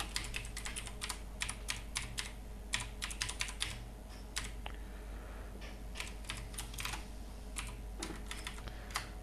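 Rapid, irregular keystrokes on a computer keyboard as Java code is typed on a Windows PC, quiet and close with bursts and short pauses, no talking.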